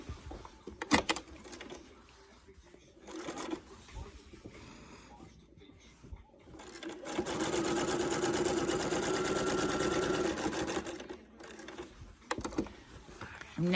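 A sewing machine stitches an appliqué star petal on a subtle quilt: short stop-start bursts of stitching, then a long, steady whirring run in the middle before it pauses again. Someone speaks quietly now and then.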